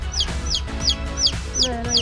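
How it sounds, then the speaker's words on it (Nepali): Chickens and chicks in a village yard cluck close by in a steady, rapid series of about six sharp calls, evenly spaced and loud, with a low background murmur. "चल्ला चिकन"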